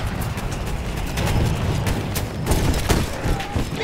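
Rapid gunfire in Battlefield 1 multiplayer on PC, a dense rattle of quick shots with sharp cracks around 2.5 to 3 seconds over a constant rumble of battle noise.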